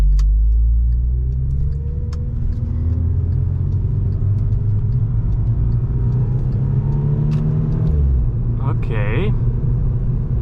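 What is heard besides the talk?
Volkswagen Scirocco R engine noise while driving in manual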